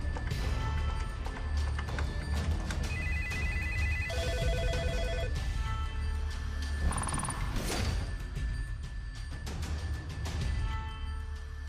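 A telephone rings in short repeated electronic bursts, set against a steady background of music and noise.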